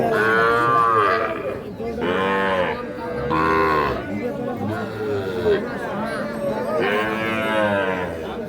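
Young bull calves at the Ambari cattle market give several long, drawn-out moos in close succession, heard over steady crowd chatter and people talking nearby.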